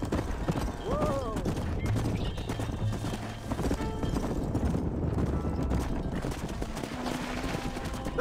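Horse hooves clip-clop steadily through a Red Dead Redemption game scene, with a horse whinny early on, over a busy backdrop of game music and ambience.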